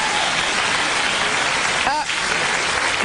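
Studio audience of a daytime talk show clapping in a dense, even wash of applause that holds steady throughout, with a brief voice briefly cutting through near the middle.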